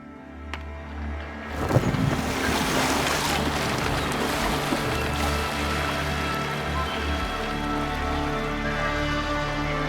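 Sailing ship cutting through ocean waves in Assassin's Creed Valhalla off Ireland, a loud continuous wash of water and spray with a low rumbling hull undertone and no talk.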